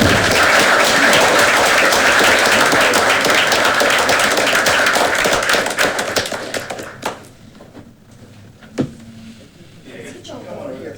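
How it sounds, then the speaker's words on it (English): A city council meeting audience gives a round of applause, dense steady clapping for about seven seconds that then thins out into a few scattered claps and quiet room noise. "Please give them a round of applause."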